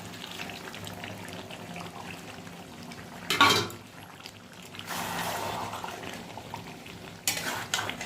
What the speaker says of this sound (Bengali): মশলা ধোয়া জলটা দিয়ে দিই এবার